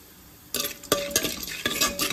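Chana dal frying in a pan as a spoon stirs it, with repeated scraping strokes over a steady sizzle and light clinks of utensil on metal, close and alone.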